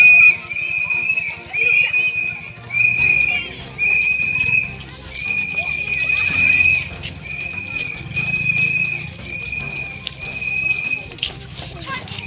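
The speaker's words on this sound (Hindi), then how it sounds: "बजा जरा सिटी बजा" A whistle is blown in repeated shrill blasts to lead a group of children at an educational event in Giridih, with voices and crowd chatter going on around it.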